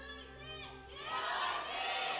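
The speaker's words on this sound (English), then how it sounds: "good cheers for both sides" An esports stadium audience cheers during a League of Legends match between ROX Tigers and Jin Air Green Wing, a crowd roar swelling midway and holding loud, with a voice over it.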